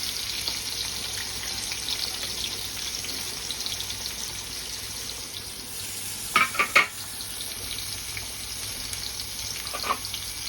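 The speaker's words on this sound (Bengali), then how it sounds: "তেল গরম হয়ে গেছে, এবার আলু ছাড়বে" Potato pieces fry in hot oil in a home kitchen, a steady, fairly faint hiss and sizzle throughout with a few brief clinks of a utensil midway.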